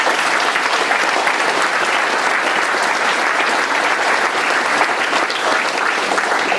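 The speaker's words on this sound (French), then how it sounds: "On peut aussi les applaudir." An audience claps steadily and loudly, a dense sustained applause with no break.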